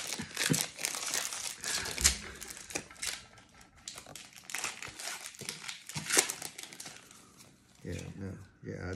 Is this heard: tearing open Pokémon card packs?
yes